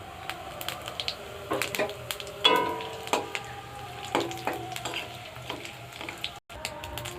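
Bay leaf and dried red chilli crackle and sizzle in hot oil, with sharp pops and a few metallic utensil clicks against the pan, close and fairly quiet.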